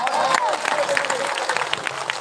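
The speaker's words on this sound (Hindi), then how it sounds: "ताली बजाएंगे" Applause and crowd noise fill a live stage show, a continuous wash of clapping with scattered sharper claps, while a voice or tone wavers faintly through it.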